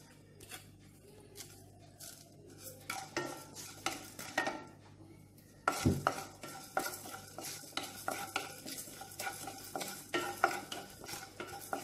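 Cumin and fennel seeds dry-roasting in a pan, stirred steadily so a spoon scrapes and rattles against the metal in a busy, uneven rhythm that grows louder and denser after the first few seconds, with no talking.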